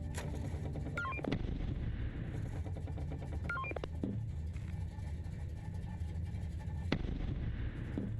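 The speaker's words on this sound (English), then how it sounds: "Mortar fire." Mortar fire in the space game Hullrot (SS14): a few distant, muffled booms and sharp cracks scattered over a steady low rumble, with short electronic beeps mixed in.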